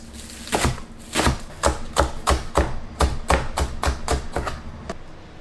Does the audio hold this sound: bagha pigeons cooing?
no